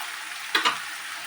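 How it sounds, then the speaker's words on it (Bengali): Potatoes stir-fried in a pan for a Bengali thankuni greens dish, giving a steady soft sizzle with two brief louder bursts of stirring near the middle. "এইভাবে আলুটাকে আমরা একটু কষতে থাকি"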